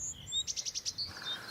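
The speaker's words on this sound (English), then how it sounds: "Blue tits, great tits." A blue tit or great tit in woodland gives a brief high, thin song: a quick run of about six sharp, repeated tweets between softer single notes, faint and fairly near.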